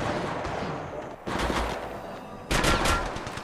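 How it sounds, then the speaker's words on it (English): Gunfire in the mobile battle royale game Apex Legends Mobile, a steady rattle of distant shots punctuated by two louder, closer bursts partway through, with no voices. "They're shooting at me! They're shooting at me!"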